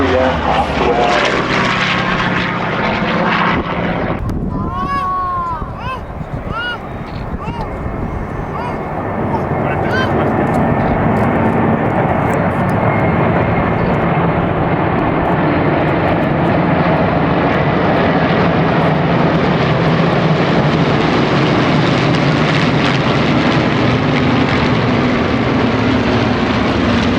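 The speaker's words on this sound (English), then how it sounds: "the second element of the Balbo, which is mainly composed of Spitfires and Hurricanes" Spitfires and Hurricanes fly overhead in a massed Balbo formation at the Duxford Flying Legends air show, a loud, sustained propeller-engine roar that swells and washes across the field with a brief dip partway through.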